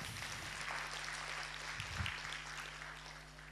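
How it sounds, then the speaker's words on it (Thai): A training-course audience in Surat Thani claps to welcome the trainer, producing a steady, fairly faint wash of applause that holds evenly throughout, with no voices over it. "ปรบมือต้อนรับคุณเก๋นะครับ"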